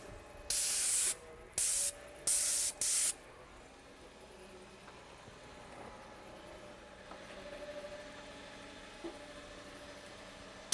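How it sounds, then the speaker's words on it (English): A paint sprayer spraying exterior house paint, four short sharp hissing bursts in quick succession close by, followed by quieter background rumble with no further spraying. "Now there's a technique to using a paint sprayer like this."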